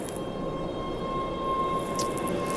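A train rumbles past in a steady low roar, with a sustained tonal whine above it, fairly loud and continuous for the whole stretch, no voices.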